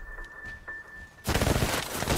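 After a quiet stretch, a WW1 Maxim machine gun opens up in a loud, dense burst of rapid gunfire that continues to the end, with a faint high tone underneath at first.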